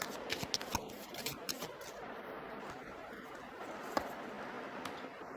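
A deck of tarot cards being shuffled and drawn gives quiet papery riffles and soft slides, broken by a few crisp flicks and snaps, close up with no talking.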